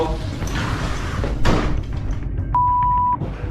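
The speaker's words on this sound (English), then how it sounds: "a door suddenly slams shut all on its own" A door slams shut on its own in a dark interior, a sharp loud bang cutting through ongoing noise and background voices, followed by a brief steady electronic tone.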